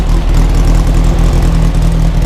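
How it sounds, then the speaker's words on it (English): A 1969 Volkswagen Formula Vee race car engine idles steadily up close while cold, a deep rumbling low throb with a fast regular pulse and no voices. "It's a little cold right now. You can hear it idling."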